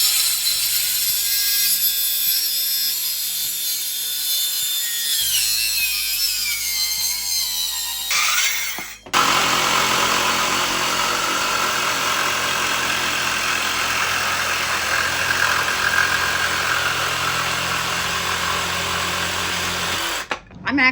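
A power saw, likely a jigsaw, cutting wood for a small craft sailboat: a steady loud buzzing motor drone that shifts pitch partway, then a harsher sustained cutting whine up close, running nearly continuously before stopping abruptly.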